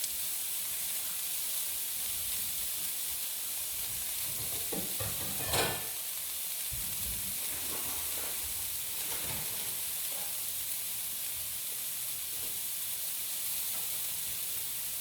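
An onion cooking down in a skillet gives a steady, close hiss for about fifteen seconds, with a brief louder burst of sizzle partway through.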